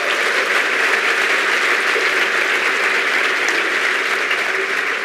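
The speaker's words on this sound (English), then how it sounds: "So round of applause for Muhammad." An audience at a Laravel keynote claps for a contributor, a steady, even wash of applause filling the whole stretch without talk.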